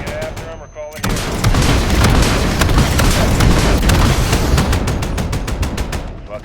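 Missile strikes in the video game Modern Warfare, a loud, dense barrage of blasts and rapid booming impacts that kicks in after a brief lull and rumbles on continuously, with voices partly buried under the din.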